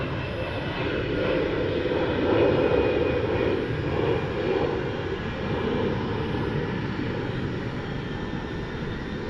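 A passenger airliner at DFW airport, a steady broad engine roar that swells slightly mid-way and holds loud and close throughout, with no other sounds over it.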